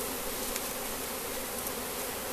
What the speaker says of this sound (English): The bees will end up wherever the queen is eventually.